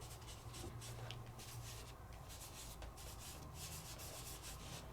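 Steady close rubbing of ink onto a foiled resist card, a soft continuous scrubbing with a gentle back-and-forth rhythm and no voices.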